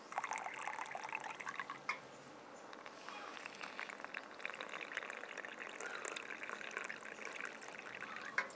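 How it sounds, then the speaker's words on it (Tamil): Water poured onto salt and turmeric in a small vessel and stirred, a faint close trickling and splashing with light scraping taps while someone speaks over it. "இப்போ இது ரெண்டுத்துலேயும் தண்ணி ஊற்றி மிக்ஸ் பண்ணிக்கிறோம்."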